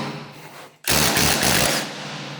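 A 9/16 socket and wrench turn the bolts holding the top rubber cutting edge of a MUSKOX 26-84 snowblower. After a quieter stretch, a loud, close burst of rapid ratcheting clicks runs for about a second before easing off.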